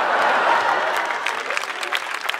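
An audience at a live comedy show claps in a dense burst of applause that starts strong and gradually thins out into scattered claps.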